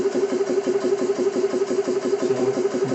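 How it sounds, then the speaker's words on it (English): A Xisico CS3 4500 PSI portable 12/110V compressor runs alone close by, a steady pulsing mechanical chug with a prominent hum and a quick regular rhythm throughout. "So compressor's running."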